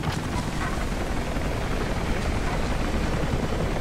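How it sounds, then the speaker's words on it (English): A helicopter about to crash in the video game Rise of the Tomb Raider gives off a steady, loud rotor roar and broadband rushing noise that holds evenly throughout with no speech. "There's a helicopter. It looks like it's gonna crash."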